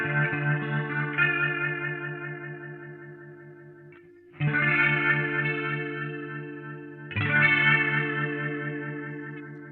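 A Line 6 HX Effects modulation effect on sustained tones, its speed swept by an expression pedal, so the warble shifts across three held chords with brief gaps between them, alone and fairly quiet.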